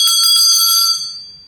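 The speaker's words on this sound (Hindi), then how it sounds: "हमारी घंटी बज चुकी है" A bright bell rings loudly up close to open a storytelling talk show segment, with a quick run of about five rapid strikes before the tone fades out alone.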